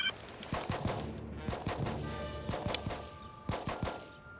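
Squad rifle fire in the Xbox game Full Spectrum Warrior, sharp bursts of two to four shots repeating about once a second, crisp and fairly loud with ringing tails between them.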